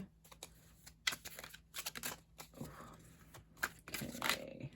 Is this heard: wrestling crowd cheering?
no